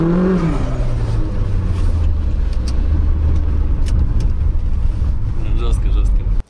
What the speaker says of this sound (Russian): Стреляет просто капец, бешено.